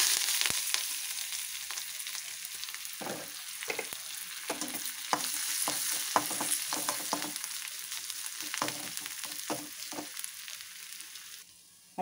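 Mustard seeds, crushed ginger and garlic, and curry leaves frying in hot oil for Kerala prawn roast: a close, crackling sizzle with irregular pops and spatula scrapes that fades slightly at the end, no voices.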